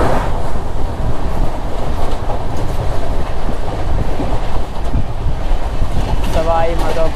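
Express train in sleeper class rolling steadily toward Sawai Madhopur, a continuous loud rumble of wheels and carriage noise with faint clatter throughout, and a brief tonal whine near the end.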